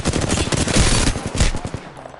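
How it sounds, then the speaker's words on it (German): Rapid automatic gunfire rattles in the Apex Legends video game, a dense burst of close, loud shots lasting about two seconds before fading. "jetzt schuss auf Wally"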